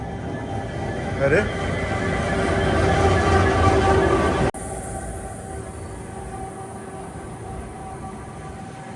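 An express train running between Visakhapatnam and Machilipatnam near Duvvada rolls at cruising speed, a steady low rumble with rattling from inside the packed carriage that drops to a quieter hum partway through, while a brief voice speaks.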